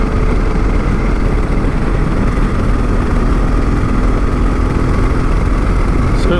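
Yamaha XT660Z Tenere motorcycle engine running steadily while riding, a continuous loud low rumble with wind noise throughout and no talking.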